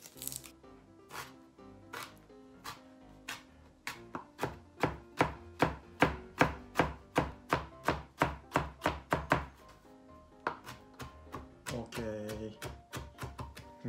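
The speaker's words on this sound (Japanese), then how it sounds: "とりあえずはニンニクをみじん切り" A knife mincing garlic on a cutting board as prep for ajillo, Spanish-style garlic and olive oil shrimp, gives a steady run of about twenty crisp, close chops that speed up in the middle and then give way to softer scraping.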